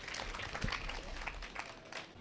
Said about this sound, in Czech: Ano, můžete zatleskat.